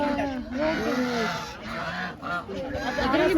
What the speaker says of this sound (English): White ducks. American Peking duck.